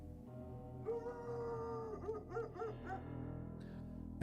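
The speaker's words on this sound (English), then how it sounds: "it sounds like there's a dog in there" In the video game Full Throttle, a dog barks and whimpers in a short run of yips behind a wall, faint and muffled under a steady droning background, with no talking.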